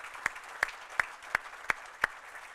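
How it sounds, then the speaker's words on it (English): Audience applause at an in-service day gathering, a steady wash of clapping with a few sharper, evenly spaced claps standing out near the front, moderately loud with no talking. "So I think we should give them all a round of applause."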